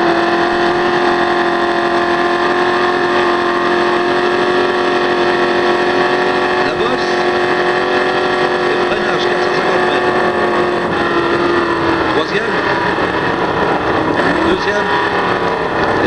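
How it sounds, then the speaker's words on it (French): A 1965 Ford Cobra race car engine drones steadily from onboard on a Le Mans lap, a loud, sustained tone that shifts pitch slightly near the end, with someone narrating in French over it. "Et maintenant, continuons dans la Cobra de Jo Schlesser. Conduite intérieure, celle-ci"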